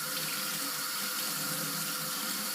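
Tap water runs steadily into a sink while a Lionel postwar caboose is held under the stream and washed, a constant close hiss and splash with no talking.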